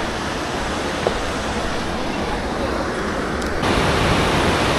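A rushing river near the Tatopani hot springs in Nepal pours out a dense, steady roar, loud and close, with no pause across the whole stretch and a slight swell in level near the end.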